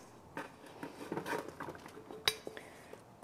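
Vegetables coated in olive oil and salt are tossed by hand on a metal sheet pan, making soft patters, light scrapes and one sharper clink against the tray, all close and fairly quiet.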